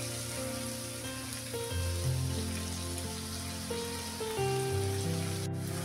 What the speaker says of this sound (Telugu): ఉల్లిపాయ ఇలా ఫ్రై అవుతుంది